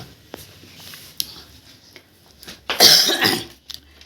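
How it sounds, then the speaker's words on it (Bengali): One person with a lingering cough and sore throat gives a single loud, harsh, close-up cough burst lasting under a second, after a stretch of quiet with small faint handling clicks. "এই এই খকর খকর খকর খকর করে সারাদিন কাশি ভালোও লাগে না"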